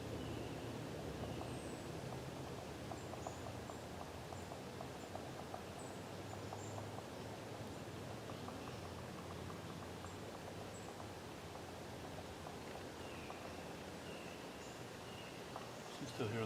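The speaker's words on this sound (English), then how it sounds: "you can hear a lot of the wind in the trees," Wind rushes steadily through trees outdoors as a constant broadband whoosh, with faint scattered bird chirps above it and occasional soft rustles, no voices.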